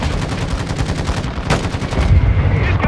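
Call of Duty Modern Warfare 2 mortar fire and shelling rumble loud and close as rapid pounding reports, with a sharper blast partway through and heavy low booms toward the end.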